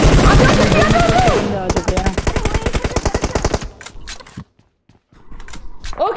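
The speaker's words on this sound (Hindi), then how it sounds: "दूसरी तरफ से भी फायरिंग हो रही है।" Rapid gunfire in the PUBG video game, a long dense automatic burst followed by steady rhythmic shots, then a brief pause and more scattered bangs, loud and close with some voice in the mix.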